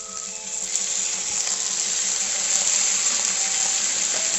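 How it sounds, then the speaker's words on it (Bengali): Hot water is poured into cooked jackfruit and prawn curry, a steady, close gush of liquid into a hot pan that spreads into a bright, sustained hiss. "জলটা আমি গরম করে রেখেছিলাম, সেই জলটা দেবো"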